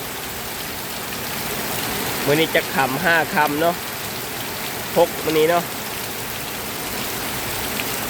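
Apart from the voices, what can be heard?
heavy rain falling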